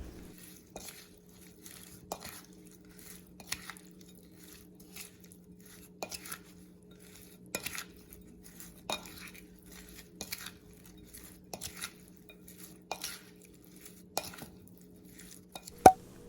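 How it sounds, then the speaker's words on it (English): A spatula mixes cilantro, green onion, mint and culantro into Lao fish ceviche, giving soft, wet squishing strokes with light scraping clicks that repeat roughly every second or two, close up and quiet over a low steady hum. "Add the cilantro, green onion, mint leaves, and culantro, and mix to combine. I'm using a spatula for this"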